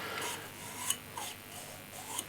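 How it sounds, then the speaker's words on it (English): Sandpaper rubs against a small wood-turned piece made from scraps, spinning on a lathe: a steady, close, hissing abrasive rasp with gentle rhythmic swells and faint ticks over a low motor hum. "I can sand the inside now."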